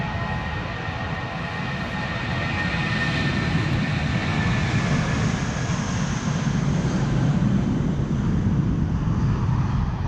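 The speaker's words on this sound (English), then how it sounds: "This is BA flight 431 to London Heathrow. It is an A320." A 22-year-old British Airways Airbus A320 departs from Amsterdam Schiphol, its engines giving a steady, fairly loud jet roar with a whining tonal edge that builds slightly and sustains throughout, with no talk.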